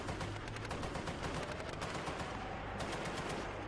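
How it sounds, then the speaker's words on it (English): Sustained machine gun fire from an armoured personnel carrier in a combat zone, dense rapid bursts continuing steadily and loudly throughout with no talk. "Under the cover of machine gun fire from their APC"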